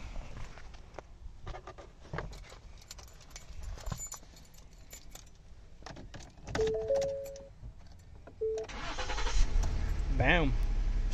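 A car engine is jump-started with a SunPow battery jump pack: shuffling and clicks inside the car, then the engine catches near the end and revs up loudly, with a rising, wavering pitch.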